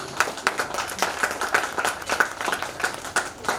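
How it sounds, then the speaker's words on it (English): A small audience claps for two women at a children's school event; scattered, moderately loud claps repeat steadily throughout, with no talking. "should we give one round of applause to to these two passionate ladies"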